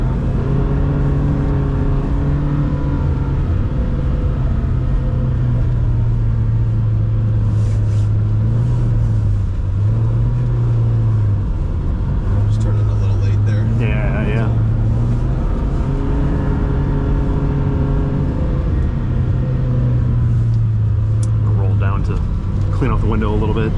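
A 2026 Lamborghini engine on a snowy ice track rises and falls through repeated throttle-on and throttle-off swells, heard from inside the car, loud and close, with voices talking over it.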